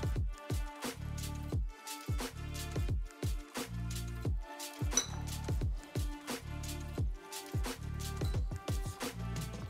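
Pico de gallo is stirred with black pepper and cumin in a bowl, a spoon clinking and scraping against the bowl's side in a steady, repeated rhythm, close and fairly quiet with no talking.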